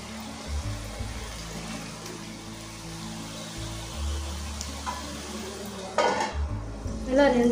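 Veg puffs fry in a covered pan, with a soft background sizzle and a few clinks and scrapes of a utensil turning them over toward the end.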